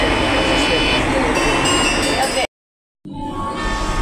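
An Argo Semeru passenger train rumbles steadily past up close at a station, loud and broadband, then the sound cuts out briefly before resuming slightly quieter.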